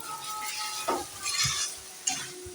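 Chicken curry spices with turmeric and coriander powder being stirred and fried in a pan over low gas, a steady sizzle broken by a few scraping stirs and light clinks of a spoon, close and fairly quiet.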